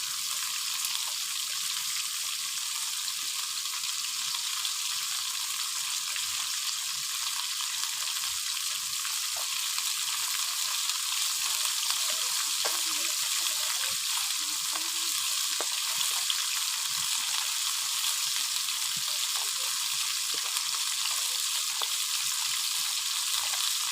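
Fish frying in oil over a wood-burning stove, a loud, continuous close sizzle with a bright crackling hiss that holds steady for the whole stretch, with faint pops scattered through it.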